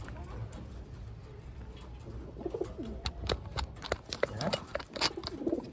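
Taiwan pigeons coo in low, soft bursts close by, mixed with wing flutters and clattering movement, while a person speaks briefly.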